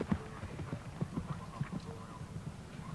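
Hooves of True Colours, a big A-grade half-Clydesdale, half-thoroughbred horse ridden in a 1993 show-jumping World Cup qualifier at Busselton, clip-clop in a steady, soft rhythm at close range.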